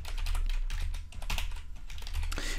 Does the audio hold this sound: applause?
no